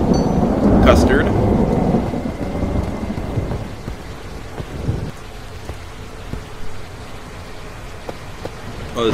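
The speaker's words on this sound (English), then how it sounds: "Raining a lot, thundering." In the video game Slendytubbies, a deep roll of thunder rumbles over steady heavy rain, then fades, leaving the rain falling alone with scattered drips.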